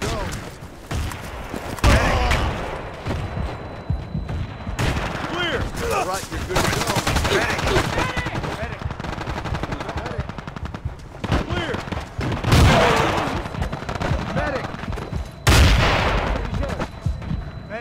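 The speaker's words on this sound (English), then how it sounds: "The M249 support weapon machine gun." An M249 machine gun fires in Battlefield 2, with repeated rapid bursts of automatic gunfire that continue almost without a break, loud and layered over other battle noise.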